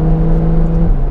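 Ferrari F12 TDF engine at light throttle, a loud, steady low drone that shifts pitch slightly near the end, close and alone with no talk.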